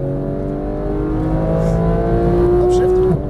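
Porsche 911 GT3 (991) pulling hard on a Las Vegas race track, a loud steady engine note rising in pitch near the microphone, with a driving coach's voice talking over it.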